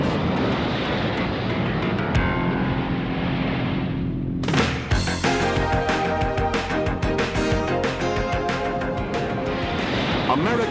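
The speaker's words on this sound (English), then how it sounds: "the United States Navy relies almost entirely on one remarkable aircraft, the Grumman F-14 Tomcat." A Grumman F-14 Tomcat jet roars loudly and steadily, its engine noise swelling abruptly into a fuller, brighter blast midway and holding there.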